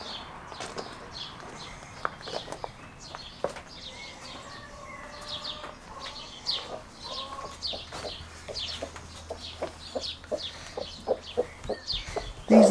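Hens clucking inside a stable where they lay eggs, soft scattered clucks and murmurs with occasional sharper calls and rustling, a low background hum beneath, close but fairly quiet.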